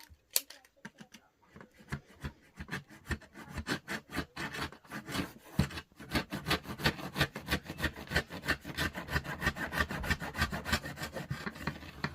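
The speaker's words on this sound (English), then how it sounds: "I'm going to just line up the edge here, and I'm going to slice off probably about ½ an inch" A blade slices off about half an inch along the edge of bed material in a fast run of close rasping strokes, first sparse and then dense and steady.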